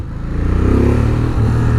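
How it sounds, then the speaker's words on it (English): A 2016 Ducati Monster 1200R motorcycle engine growls loud and close, its deep rumble swelling as the throttle opens and then holding steady, with nobody speaking over it. "This bike has a crazy sized engine"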